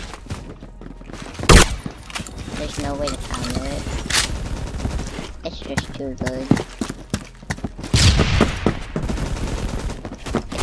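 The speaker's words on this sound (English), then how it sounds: "you can just make it so instant burst and just shoot 16 shots at a person" A Stevens shotgun fires in a video game, with a few loud, sharp blasts heard under steady talking amid other game sounds.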